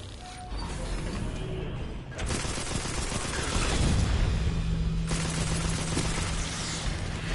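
Auto turrets open fire in the Destiny 2 campaign, a steady dense burst of rapid gunfire that continues throughout with a low rumbling layer beneath and no talk.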